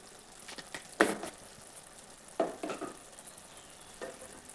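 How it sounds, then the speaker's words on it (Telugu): Spiced egg curry mixture with salt and coriander-cumin powder being stirred in a pan, with a few separate scrapes and clinks of a spoon against the pan over a faint, quiet sizzle. "బాగా మిక్స్ చేసుకుందాం."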